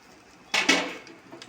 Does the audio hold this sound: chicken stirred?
yes